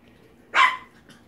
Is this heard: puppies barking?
yes